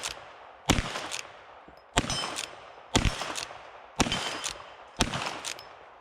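Five sharp, loud lever-action rifle shots ring out about one second apart, each a hard crack with a clanging ring-off and mechanical action noise between them, close and alone.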